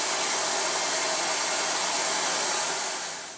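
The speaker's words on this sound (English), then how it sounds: "and it'll suck it down nice and firm" Vacuum bag press pumping air out to clamp a mounted photo print, a steady loud hissing suction roar that holds constant and then tapers off slightly at the end, with no voices.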